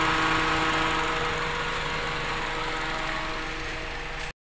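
A warmed-up car engine idles steadily with its air conditioning switched off, a constant close hum with fine mechanical texture holding even for about four seconds before cutting off abruptly.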